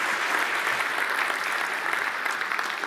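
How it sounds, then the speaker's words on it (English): Audience applause at the South Australian 2021 Australian of the Year Awards, a sustained, moderately quiet roll of clapping from a large crowd, steady and unbroken throughout. "a big round of applause"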